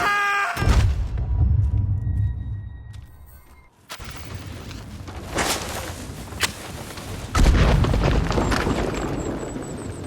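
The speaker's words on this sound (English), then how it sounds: "Red Dead's rather reserved dynamite explosion throws particles into the air and even causes environmental changes." Dynamite goes off in Red Dead Redemption 2 as a deep, loud boom, followed by rumbling debris and scattered crackling bursts over several seconds, with no speech.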